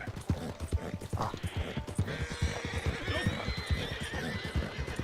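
A horse in a western video game whinnies loudly over rapid clip-clopping hooves as it gallops, with mechanical clicks and rattles in the background.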